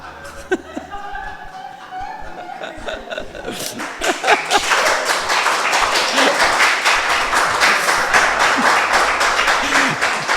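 A church congregation breaks into clapping, the claps dense and sustained, overlapping into steady applause after a quieter stretch with someone speaking, with scattered laughter mixed in.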